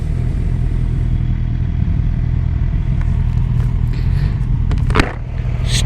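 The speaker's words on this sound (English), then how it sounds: "Stupid traffic!" Video game traffic rumbles past with a low, steady motor drone, a clatter and a brief louder whoosh near the end.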